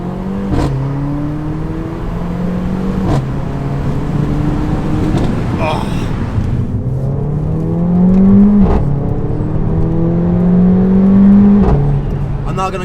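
A Mercedes A45 AMG in manual mode revs and blips its throttle on a road, engine tone climbing and falling in several pulls with rising whine, close and loud inside the car.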